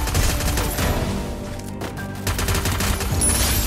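Loud, sustained automatic gunfire from a weapon in a video game, rapid shots blending into a dense roar for several seconds with a brief dip near the middle and no speech over it.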